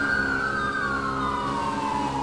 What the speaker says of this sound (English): Oh, what even is that police car?